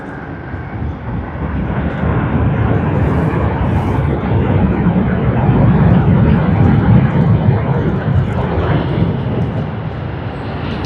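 An All Nippon Airways Boeing 787-9 Dreamliner from Tokyo Haneda at Sydney Airport produces a loud, close, continuous jet engine roar that swells through the middle and eases slightly toward the end.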